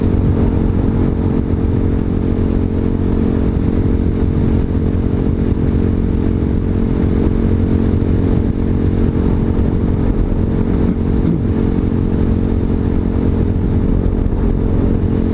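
A Honda Hawk 250 motorcycle engine drones loud and steady at constant speed on a morning ride, with wind rush and no voices.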